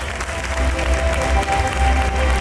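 Audience applause at a school annual day celebration during a prize-giving, a brief, steady patter of clapping from a hall crowd, fairly loud throughout.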